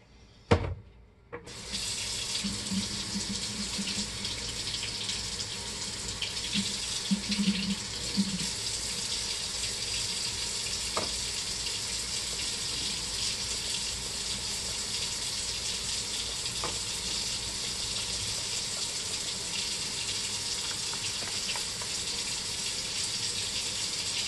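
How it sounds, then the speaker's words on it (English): Tap water runs steadily into a container to dilute Young Living dish soap, a continuous close hiss lasting the whole stretch after a brief clunk at the start. "Okay, so I'm gonna add my water."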